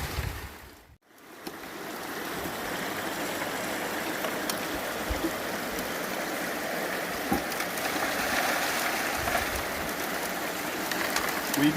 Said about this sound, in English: It's nice sluicing with clean river water instead of recirculating all the dirty stuff.